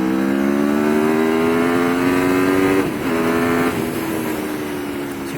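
Aprilia Tuono 1100 Factory motorcycle engine revving hard under steady acceleration, a loud, close, continuous rising roar with a brief dip as it shifts gear, recorded while riding on the road.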